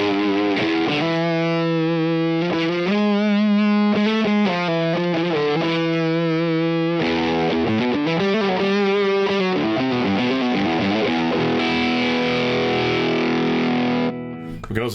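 Electric guitar through a Two notes Genome amp on the Bend the Binge preset, playing distorted chords and riffs with a chorus-like shimmer, loud and continuous with no talking.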